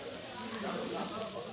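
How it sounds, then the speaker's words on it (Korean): Pork belly sizzles and crackles on a grill plate as fat pools underneath, a steady frying hiss that runs continuously beneath spoken narration. "지글지글 타오르는 고기, 불판 밑에 흥건하게 고인 기름"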